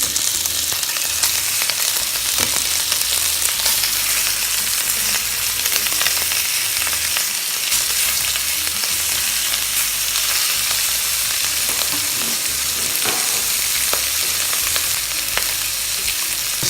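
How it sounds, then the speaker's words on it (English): Lamb chops sear in smoking-hot olive oil in a pan, giving a loud, continuous, close sizzle and crackle with scattered pops and no pauses. "Sear the lamb chop in the very hot, as you can see, smoking, hot olive oil."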